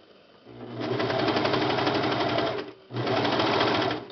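A serger sewing machine stitches the fabric of a fitted baby diaper, its fast, even mechanical whir running close and loud in two long runs split by a short pause.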